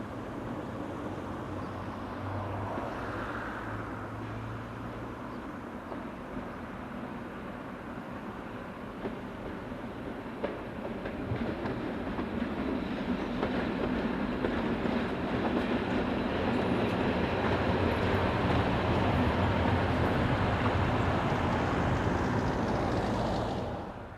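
Two locomotives, 2348 and 2346, depart Ronay Yard for Charleroi, a steady rumble of rolling train with faint clickety-clack that grows a little louder and nearer before tailing off.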